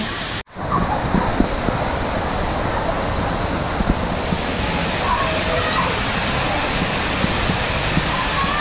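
Water splashes and rushes at Volcano Bay water park in Orlando, a loud, continuous close wash of spray that fills the clip without letup.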